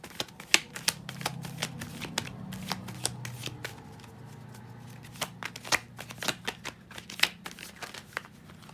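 Tarot cards being shuffled up close in a quiet room, a steady run of crisp riffling flicks and snaps with a few sharper slaps, heard alone without talk.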